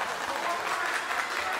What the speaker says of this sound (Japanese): 場内からも拍手が起きている